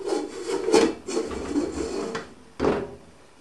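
A metal pan set over a wok as a makeshift lid gives a series of close scraping and rubbing clatters, then settles with a last short metallic knock. No one speaks.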